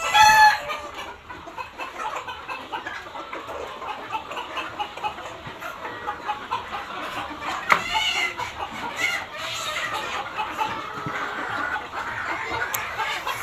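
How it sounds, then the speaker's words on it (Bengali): Egg-laying hens in a poultry shed cluck and chatter continuously in a busy, overlapping flock, with an occasional louder squawk or crow rising above the steady din. "এটা হলো ডিমের মুরগি।"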